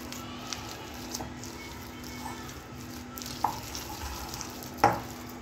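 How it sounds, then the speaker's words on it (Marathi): Spiced prawn marinade being stirred in a pan, quiet wet squishing and faint sizzling with occasional light clicks and one sharper knock near the end, close and low in level under a steady background hum. "आता हे व्यवस्थित मिक्स करून घेऊया."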